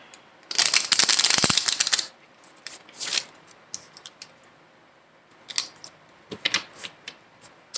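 Tarot or oracle cards shuffled by hand, with a dense riffling burst of about a second and a half followed by scattered sharp card snaps and flicks, close and fairly quiet, with no talking.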